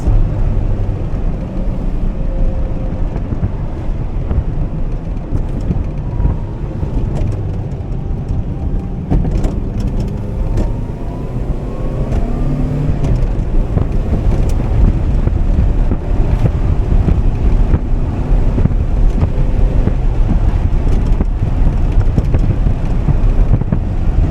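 A Yugo car with badly worn tires climbs a hill, giving a continuous rough rumble of engine and road noise buffeted by heavy wind noise, loud and steady throughout.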